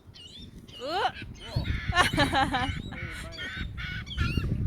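Geese or similar fowl honking and calling repeatedly while being fed, loud close calls in irregular bursts, with people talking nearby.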